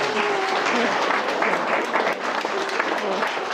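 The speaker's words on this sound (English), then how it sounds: "I think they deserve a round of applause." A wedding ceremony crowd claps steadily throughout, a dense, sustained patter of applause at even loudness with a faint voice beneath.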